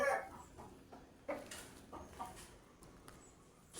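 Chickens cluck softly nearby in short scattered calls, faint and irregular, against quiet outdoor background noise.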